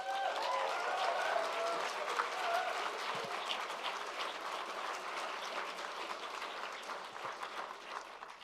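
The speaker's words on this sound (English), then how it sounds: "Give yourselves a round of applause." Graduands at a virtual degree ceremony applauding themselves: steady, moderately loud clapping from many hands continuing throughout with no break.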